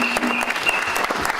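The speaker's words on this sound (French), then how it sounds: "nous applaudissons ces mois très très fort" A church congregation applauds during a Sunday worship service, dense continuous clapping filling the whole moment with a faint sustained keyboard tone beneath.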